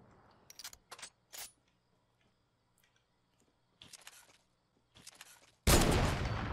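Gunfire from a tense Fortnite sniper fight comes in several short, sharp bursts separated by quiet gaps, ending in a louder, sustained volley.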